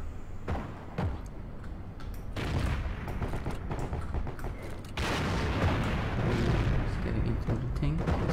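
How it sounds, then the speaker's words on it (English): Grenade explosions and gunfire in the war shooter game Heroes and Generals: a continuous roar of battlefield noise broken by sharp cracks and booming bursts, the din growing heavier and denser partway through. "Hey, grenades!"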